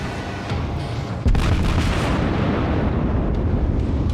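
A New York battleship fires its main guns in World of Warships: one heavy, close booming salvo cracks out over a low rumbling background, with the roar lingering afterward.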